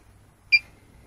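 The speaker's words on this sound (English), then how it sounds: "Beep." An off-grid power inverter gives a single short, clear electronic beep as it is switched on, sounding once against near silence.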